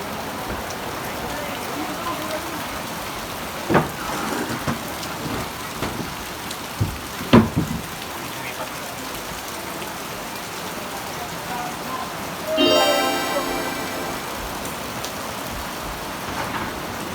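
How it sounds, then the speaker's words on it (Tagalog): Steady heavy rain pours down outside a bamboo nipa hut under construction, with a couple of sharp thunder cracks early on and a brief burst of louder noise later, all one continuous wash of downpour. "Ito yung sitwasyon dito guys pag maulan."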